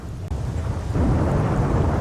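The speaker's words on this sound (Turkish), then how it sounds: "Çılgınlar gibi yağmur yağıyor." Heavy rain pours in the video game S.T.A.L.K.E.R. Call of the Zone, a loud continuous roar under a deep rolling thunder rumble that swells about a second in and stays strong.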